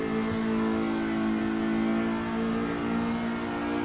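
A GTi Challenge race car engine revs hard on track, climbing from around 6,000 to 7,500 rpm, a loud, sustained buzzing drone with steady harmonics throughout.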